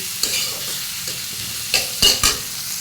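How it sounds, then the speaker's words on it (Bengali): Black cumin seeds frying in a generous amount of oil in a pan: a soft, steady sizzle with a few sharper stirring clicks near the end, close up, no voices. "দিয়ে দেবো কয়েকটা কালো জিরে, দিয়ে সুন্দর করে ভাজা করে নামিয়ে নেব"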